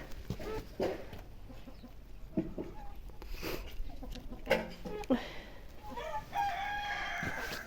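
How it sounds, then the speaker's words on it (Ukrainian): Chickens on a Ukrainian homestead give a run of clucks and calls, mostly close by, with brief rustling and background activity between the bird sounds and no speech. "Ось, дивіться, яка красива курочка."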